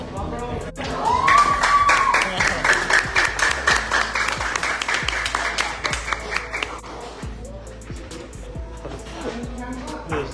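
Spectators at a 2023 invitational pool exhibition match featuring Efren Reyes clap loudly and raggedly, the applause swelling early then thinning into scattered claps while commentators talk over it.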